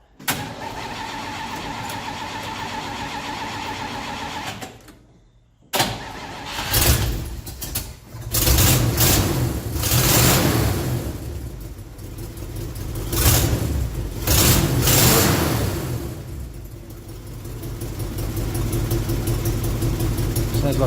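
A 1955 Oldsmobile engine fitted with an Edelbrock carburetor cranks and catches, then settles into a rough idle broken by several loud, close revs that rise and fall over about twenty seconds.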